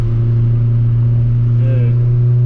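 Honda Prelude fitted with a test pipe, its engine droning loudly and close with a steady low hum, while a brief voice sounds over it.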